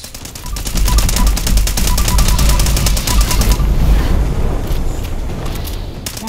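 Rapid automatic gunfire from a shooter video game rattles out in a fast, loud burst, then gives way to booming, rumbling explosion noise and scattered shots.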